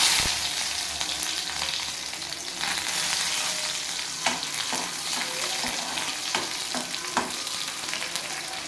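Sliced onions sizzle and fry in hot oil in a pan for a goat intestine curry, a steady crackling hiss throughout, close and fairly loud, with a few sharper spatters and stirring scrapes.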